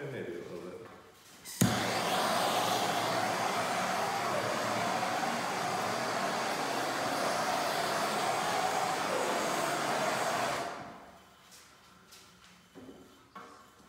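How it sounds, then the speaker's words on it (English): A heat gun warms a freshly troweled epoxy piece, its steady blowing whoosh starting suddenly and running evenly for several seconds before cutting off, with faint voices around it. "Do you need me to heat that side up a little bit?"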